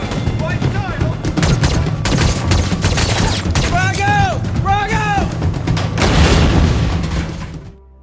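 Dense gunfire of rapid shots and booming blasts from American soldiers' assault on Al-Qaeda fighters, loud and continuous with whistling tones and a voice underneath, then fading out at the end.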